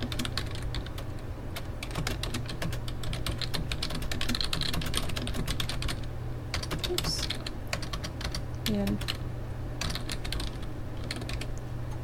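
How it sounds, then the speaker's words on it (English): Rapid, steady clicking of keys on a computer keyboard, nearby and continuous, with a few brief pauses over a faint background hum. "then you can type in there"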